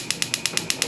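The electric starter on a Haier HFS-503G63GO gas range burner clicks rapidly, seven sharp evenly spaced ticks in under a second, close and loud.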